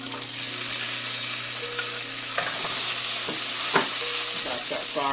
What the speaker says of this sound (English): First thing we're going to do is put the onions in